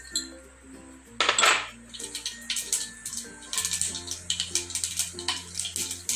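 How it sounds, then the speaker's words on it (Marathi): Mustard seeds with a pinch of asafoetida crackling in hot oil for a tempering, close sharp pops and spits in irregular bursts against a faint background hum. "मोहरी चांगली तडतडू द्या."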